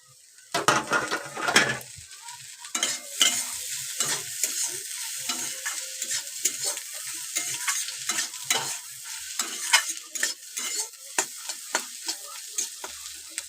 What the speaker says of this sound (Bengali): এবার আমি ভেজে রেখেছিলাম পেঁয়াজ কাঁচা লঙ্কা ডিমটা, ওটা দিয়ে দেব, দিয়ে খুব ভালো করে ভাজবো।